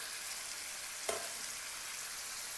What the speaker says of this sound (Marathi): याला चांगलं परतून घ्यायचं. सगळ्या खेकड्याला मसाला लागला पाहिजे.